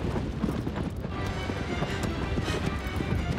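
Horse galloping in the video game Shadow of the Colossus, a steady rapid hoofbeat rhythm carried over continuous wind and low rumble, with no talk.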